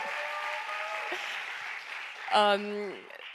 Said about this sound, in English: round of applause for Petal Rock Black